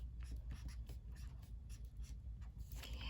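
A marker or pen writes a name on a sheet before painting, giving a close, steady scratchy scribble in short quick strokes with no talk.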